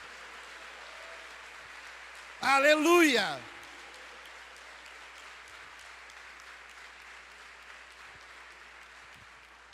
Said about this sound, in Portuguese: Você pode aplaudir mais forte, seu Senhor?